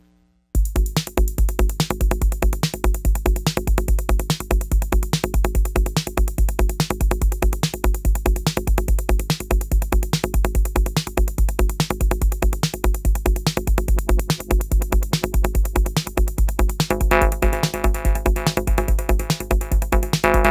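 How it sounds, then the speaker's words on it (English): Octatrack MIDI note fed into a eurorack reverse delay line: a fast, loud pulsing synth pattern that repeats evenly with deep low thumps, and extra tonal layers swelling in near the end, with no speech. "drop a note on number 1, which is there, and then send that out to the reverse delay line"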